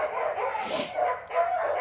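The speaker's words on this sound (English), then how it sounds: "Ty's yelling at the cows, so the dogs are barking louder." Several dogs bark and yip at close range on a cattle farm, in short overlapping bursts with a whimpering edge, loud and fairly continuous across the moment.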